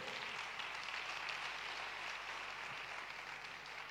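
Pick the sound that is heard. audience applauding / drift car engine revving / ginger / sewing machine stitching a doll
audience applauding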